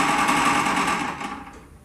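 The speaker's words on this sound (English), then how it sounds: "It's a wood lathe for turning wood." A wood lathe driven by an old Singer sewing machine turns a block of wood with a fast, steady mechanical whir and clatter, close by, winding down and fading over under two seconds.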